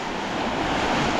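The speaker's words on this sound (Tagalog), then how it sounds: "Ang lakas po ng agos oh." A strong river current rushes past, a loud, steady wash of flowing water filling the whole brief moment with no voices.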